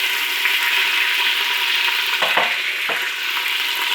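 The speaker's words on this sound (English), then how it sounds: "Add onion, whatever the cut onions that we have, and let it cook, like the golden brown color." Onions frying with masala in a pan for vegetable biryani, a steady loud sizzle and crackle throughout with a couple of brief stirring scrapes near the end, no talking.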